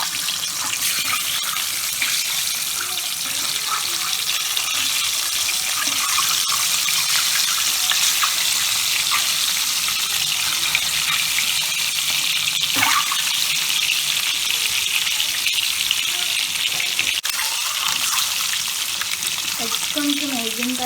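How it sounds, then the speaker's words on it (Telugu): Eggs frying in hot oil for an egg cashew masala curry, a steady loud sizzle running unbroken through the whole stretch with a few faint clinks near the end. "ఆయిల్ కొంచెం హీట్ అయ్యేంత వరకు వెయిట్ చేసి కాగింది గుడ్లు వేపుకోవాలి."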